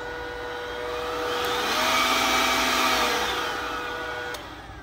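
An Enhulk cordless variable-speed leaf blower switches on and runs with a steady whooshing whine. It rises to a loud, even roar and eases slightly toward the end, heard up close without talk.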